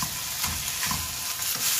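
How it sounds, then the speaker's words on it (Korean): Meat stir-fries in a pan with a dense close sizzle and a few quick stirring scrapes over a short stretch, with no talk. "고기를 조금 볶아야 되겠죠?"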